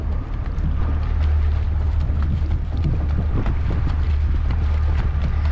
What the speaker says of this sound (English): after this boat gets past us right here